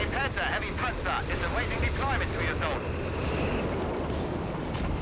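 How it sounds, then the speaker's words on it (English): Artillery fire in Company of Heroes 3, a dense rumble of booming shells and blasts under continuous battle noise, with a voice talking over it. "Zeroing artillery there from Doge."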